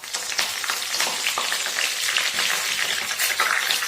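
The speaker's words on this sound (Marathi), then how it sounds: "आपले तेल आता गरम झालेले आहे। आपण त्यामध्ये जिरे, मोहरी," Cumin, mustard seeds and curry leaves crackle and sizzle steadily in hot oil for tomato chutney, a loud, close, continuous hiss with scattered pops.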